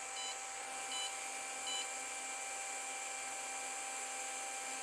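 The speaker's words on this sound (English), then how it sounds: "that's turned green, and the beeping has stopped, so that is successfully linked" WalkSnail FPV goggles in linking mode emit three short, high electronic beeps at an even pace, quiet over a steady hiss, then fall silent.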